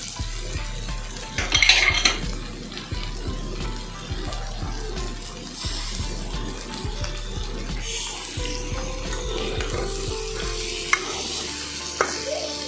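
A boiled potato mixture stirred and fried dry in a pan, with a utensil scraping and tapping the metal in an irregular rhythm over a low sizzle, no talk.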